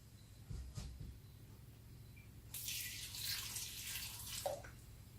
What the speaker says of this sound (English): We can add some water.